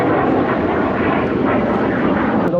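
A MiG-17 jet fighter passes over an air show with a loud, steady, broadband engine roar that stays heavy and unbroken throughout.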